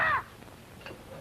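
A bird gives a single short, harsh crow-like caw at the very start, fairly close, followed by quiet room noise and faint ticking.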